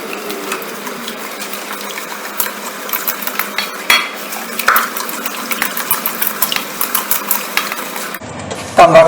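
Cookie dough for choco melt cookies being stirred in a metal bowl, with a utensil scraping and clinking in a busy, uneven rhythm, close and fairly loud, with no talking.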